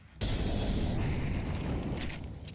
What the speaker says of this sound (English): Nade's doing some damage on the Carpe Diem side.